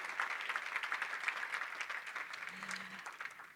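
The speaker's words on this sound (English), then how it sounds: "A round of applause, I think, is needed at this stage." A crowd at a conference session on partnerships gives a round of applause, a continuous, moderately loud patter of many hands that holds steady throughout.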